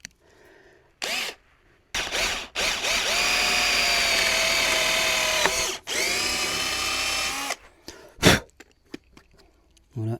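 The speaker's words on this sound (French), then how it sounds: "on va percer ici" A handheld power drill boring into a Michelin 24H Series racing tire, several whining bursts that rise in pitch as the motor spins up, separated by short pauses and a few clicks and handling knocks.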